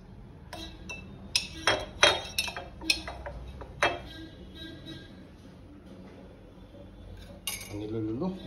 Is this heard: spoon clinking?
yes